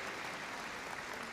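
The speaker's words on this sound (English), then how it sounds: "A big round of applause for Christine," An audience at the Crufts heelwork to music dog competition breaks into steady, even applause, faint and distant with no voices over it.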